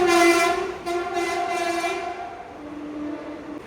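A passenger train passes a crossing at Payyanur railway station, its horn sounding in long sustained blasts that drop in pitch near the end, loud and close with no talk over it.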